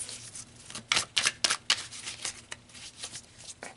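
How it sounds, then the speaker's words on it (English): Tarot cards are shuffled close up, a string of soft papery riffles and slaps in an uneven rhythm, with no talking. "I feel like I need to shuffle."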